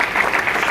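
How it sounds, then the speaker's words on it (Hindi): Studio audience clapping together for Prem at a recognition ceremony, a steady dense wash of applause filling the whole short moment, loud and close with no voices on top. "प्रेम, मिस्टर प्रेम, एक जोरदार ताली होना चाहिए प्रेम के लिए।"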